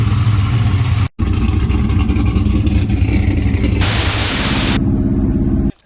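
A 6.0L WS6 car driving down the road gives a loud, continuous engine roar under heavy wind noise, with a brief dropout and a hiss-like surge near the end.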